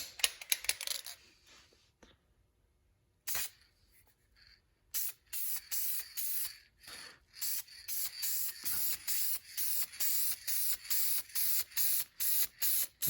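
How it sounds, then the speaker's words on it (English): A spray gun lays clear coat on a repaired Mercedes C36 AMG bumper. Close hissing bursts start and stop in a steady, repeated rhythm after a short quiet gap. "It's hard to do unless you have a nice spray gun, because this is quite a wide pattern on these."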